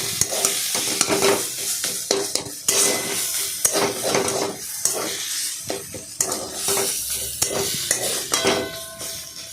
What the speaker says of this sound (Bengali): চিনি দিয়ে ভালো করে নাড়াচাড়া করলাম